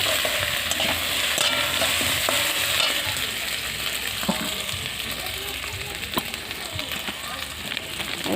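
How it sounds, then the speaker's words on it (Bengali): Tomatoes cook down in a hot pan with a continuous close sizzle and crackle, punctuated by irregular scraping taps of a stirring spoon throughout. "টমেটোগুলো কষে নেব।"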